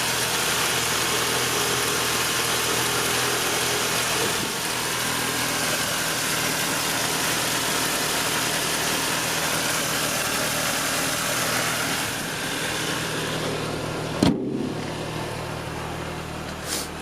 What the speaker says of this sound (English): I'll leave this running a bit just to, you know, let the engine sort of get up to operating temperature